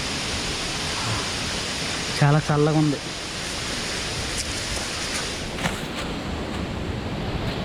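Badigunta waterfall near Akuru, Rampachodavaram, gives a dense, continuous roar of rushing water close by. A voice speaks briefly partway through.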